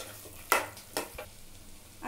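Mutton pieces are stirred into masala in a pan: a few scraping, sizzling strokes of the spoon at uneven intervals over a quiet background, with no talking.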